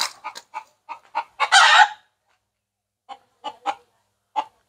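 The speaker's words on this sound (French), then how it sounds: "Lui, il est fou, ce coq-là." A rooster, out in a neighbourhood, crows in one long loud burst after a run of sharp clucks, then several more short clucks follow alone, close by.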